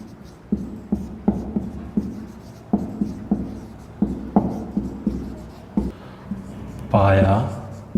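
A definition being written on a board: a close series of short scratchy strokes and taps in an irregular rhythm, followed by a brief burst of a man's speech near the end.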